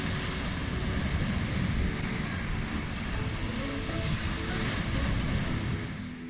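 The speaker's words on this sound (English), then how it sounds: "It's getting really windy and rough out on the water." Strong wind and rough surf on the beach near Ipperwash, a loud, continuous broadband roar of crashing waves and gusts buffeting the microphone, with no voices.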